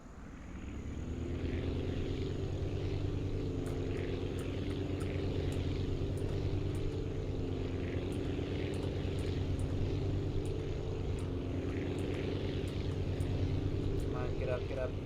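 A propeller plane in the video game Aviassembly drones steadily at full power during takeoff, a loud continuous engine hum with faint ticking clicks overhead.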